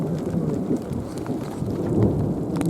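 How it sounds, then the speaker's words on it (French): A summer thunderstorm rumbles with continuous deep thunder and steady heavy rain, a dense, loud wash of sound with no voices. "c'est des orages d'été"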